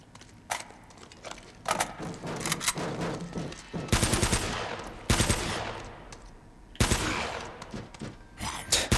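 Video-game gunfire from Uncharted: Drake's Fortune, with loud bursts of rapid shots and single cracks spread across the clip and game sounds in between.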